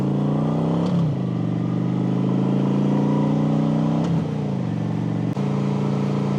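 Cruiser motorcycle ridden through the hills, a steady close engine drone with a few gear-shift dips and rises in pitch, continuous throughout.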